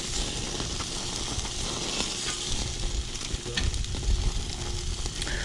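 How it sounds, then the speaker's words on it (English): Sausage fries and begins to burn in a pan at home, giving a steady close sizzle with occasional stirring clatter and scraping. "even here the sausage is getting burnt"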